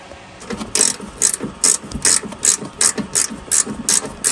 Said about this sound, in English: I'll put a 10 millimeter wrench or a socket on here. Just loosen a little bit.